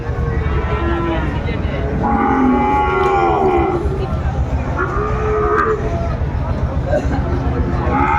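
Sahiwal bulls at a cattle market in Dinajpur, bound for Golapganj in Sylhet, give several long, loud moos in succession over a steady background of crowd babble and voices.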